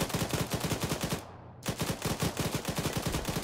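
Rapid small-arms gunfire crackles in dense, rhythmic bursts during a combat firefight, loud and close, with a brief pause partway through before the shooting resumes.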